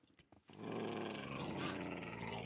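A dog in the Minecraft video game growls after a short stretch of quieter game sounds. The low, rough growl comes on suddenly and holds loud and continuous to the end, with no talking.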